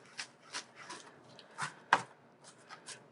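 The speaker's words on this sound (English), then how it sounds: "I'm just gonna chop a few" Knife chopping green onions on a cutting board, a series of light, irregular taps and thuds spaced through the clip, fairly close and quiet with no talking.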